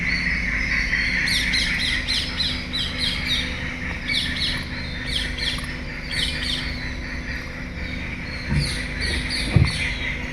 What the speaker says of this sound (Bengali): হঠাৎই জঙ্গলের মধ্যে নানা পাখিদের চিৎকারে আলোড়ন পড়ে গেল একটা বাজ বা চিলজাতীয় পাখি জঙ্গলের মধ্যে ঢুকেছে শিকার করতে